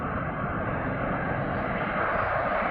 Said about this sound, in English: Qatar A350 coming in. Beautiful looking aircraft.